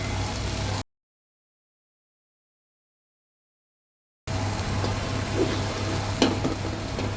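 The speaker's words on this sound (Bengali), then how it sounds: "নোনা ইলিশটাকেও ভালো মতো পেঁয়াজের সাথে একটু ভেজে নেওয়া হচ্ছে" Salted hilsa frying with onion and spices in a pan, a steady hiss with occasional spoon scrapes, cut by a long stretch of complete silence before the sizzle resumes.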